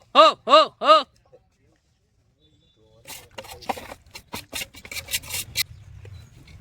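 Roasted urad flour with ghee is stirred into sugar syrup for traditional adadiya pak. Three loud tonal beeps open the sound, then after a silent pause come close, irregular rubbing and scraping strokes.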